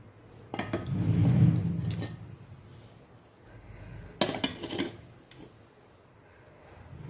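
Thick sangati, a millet or rice mash, dropped from a pot into a steel bowl in a home kitchen, with a soft dull thump and scraping around one second, then a sharper clink of vessels near four seconds, close and moderately loud.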